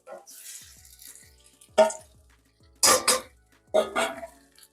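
Pork strips and celery get dumped into a cooking pan, producing a few loud clattering splashes and sizzling bursts separated by quieter gaps.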